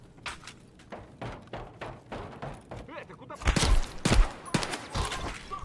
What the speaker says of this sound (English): Scav shooting at me from medical tent.